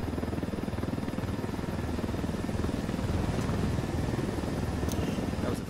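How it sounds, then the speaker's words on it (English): Helicopter in the video game Ghost Recon Wildlands, a steady, dense rotor drone that holds at an even level throughout, with no clear speech over it. "Nothing like swiping a helicopter."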